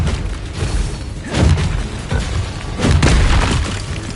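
Blasting-spell explosions crash in Hogwarts Legacy during spell-casting combat, with repeated booming bursts of noisy impact rolling in waves and overlapping rumble and debris.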